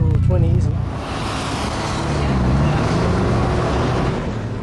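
A turbocharged rotary engine running on 15-pound boost drones steadily and loudly throughout, its continuous roar rough with wind buffeting, and a brief voice at the start.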